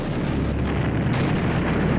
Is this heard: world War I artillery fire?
yes